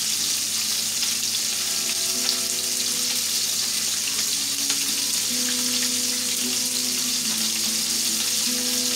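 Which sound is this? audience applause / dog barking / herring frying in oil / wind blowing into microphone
herring frying in oil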